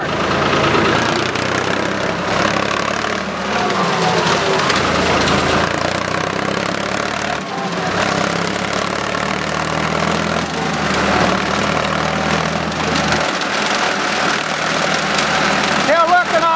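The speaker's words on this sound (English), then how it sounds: "let's get to mowing this corn down" A mower runs steadily while cutting down rows of standing corn on a farm, a close, continuous engine drone with shifting rough texture throughout.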